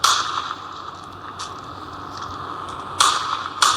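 Gunshots in the video game Indian Bike Driving: a few sharp, isolated cracks, one early and two close together near the end, over a steady electronic game background.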